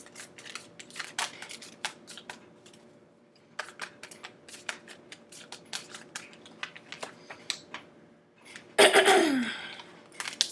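A tarot card deck being shuffled by hand: a run of quick, crisp card snaps and riffles, close and moderately loud, ending in a dense burst of cascading cards near the end.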